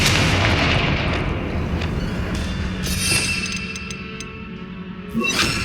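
Confringo fire spell in Hogwarts Legacy: a loud, booming blast that rumbles and fades over several seconds, then a fresh burst near the end.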